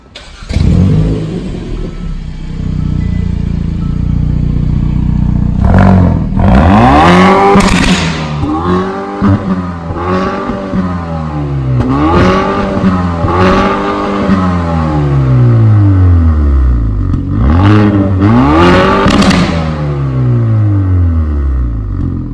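A Hyundai i30 N engine starts, then revs hard several times, each loud roar climbing and falling back to idle, recorded about a meter from the exhaust at ground level, no voices.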